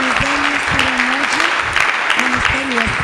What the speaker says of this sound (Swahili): Acclamez le Seigneur Jésus